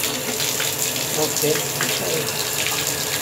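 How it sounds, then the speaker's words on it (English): A bathtub faucet runs cold water in a steady, loud, close gush during a leaking-tub-faucet repair, and a voice speaks briefly over the flow. "Turn the cold water."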